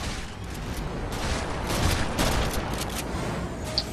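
Repeated shotgun blasts ring out in the video game Fuse, layered into a dense, continuous stream of gunfire and explosions with no clear gaps, loud and sustained throughout.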